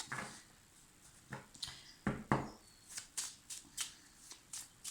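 A deck of oracle cards is shuffled by hand in a series of soft riffles and sharp flicks, close and quiet, with a few stronger slaps midway, with no talking.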